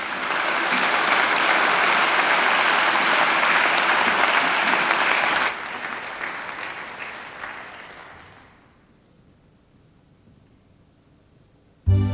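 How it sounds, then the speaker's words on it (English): Audience applause at a university graduation ceremony at Macquarie, loud dense clapping from a large hall crowd that holds steady, then thins and fades out over several seconds before a sudden sound at the very end. "I think she deserves another great round of applause."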